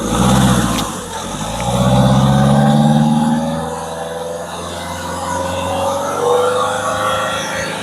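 A car engine, just repaired after timing belt work, revs up loudly and steadily several times. It holds a throaty, sustained drone for nearly eight seconds.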